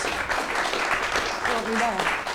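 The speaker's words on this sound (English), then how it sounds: "Give her a round of applause, please." At a film festival event, an audience claps to welcome director Carol Morley, a brief steady round of applause with a voice briefly audible over it near the end.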